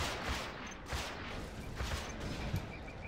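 Rapid gunfire in the real-time strategy game Command & Conquer: Generals, a steady spread of crackling shots and bursts from several units, moderately loud and somewhat distant, with no voices.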